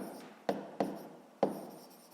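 Pen on paper writing out a math answer in cubic millimetres, heard as three short, close scratchy strokes spaced unevenly over a quiet background.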